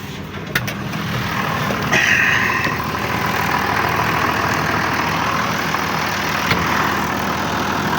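A farm tractor engine runs steadily nearby, a continuous loud low drone with a faint rattle and a brief click or two, no voices over it.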